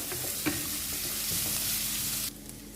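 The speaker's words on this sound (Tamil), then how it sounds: "இது நல்லா இந்த வெங்காயம் பூண்டு எல்லாம் வதங்கிக்கிட்டு இருக்கு." Onion and garlic sautéing in a pan for a spinach sambar, a constant close sizzle with a light stirring knock, dropping somewhat quieter near the end.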